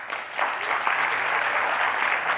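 Audience at a web development talk claps and cheers to vote for a topic, a dense wash of clapping with some whoops, moderately loud and continuous.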